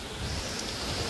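Heavy monsoon rain falls on the dense forest at Tapola near Mahabaleshwar, a brief, even hiss of steady downpour without any talk.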